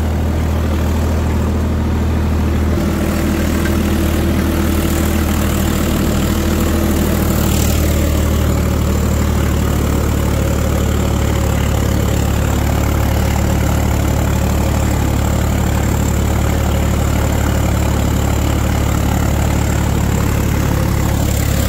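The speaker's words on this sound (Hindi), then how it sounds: "ट्रैक्टर दब रहा है, आरपीएम ड्रॉप कर रहा है।" A heavy new Swaraj tractor engine drones loudly and steadily, its pitch sagging slightly as its RPM drops under load.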